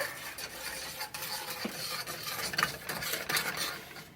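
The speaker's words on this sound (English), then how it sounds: "We start out by putting the sugar and the cornstarch into our saucepan. And we'll give that a little bit of a stir." Sugar and cornstarch are stirred in a saucepan, a dry, gritty rasping and scraping of a spoon against the pan bottom in quick repeated strokes, close and fairly loud with no talk.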